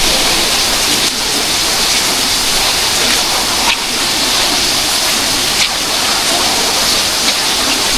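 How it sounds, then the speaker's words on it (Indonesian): Loud, constant roar of the Gua Tetes waterfall, a dense rushing wash of falling water that fills the whole scene without pause. "Semakin ke bawah, air terjun Gua Tetes mulai terlihat jelas nih guys."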